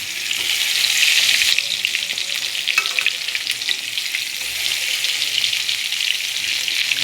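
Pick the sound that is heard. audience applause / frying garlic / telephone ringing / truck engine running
frying garlic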